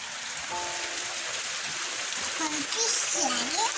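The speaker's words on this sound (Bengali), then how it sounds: "বৃষ্টি তোমার ভালো লাগে?" Steady rain hisses softly through a rainy morning, a faint, even wash of sound with a few scattered clinks and thin voices in the background.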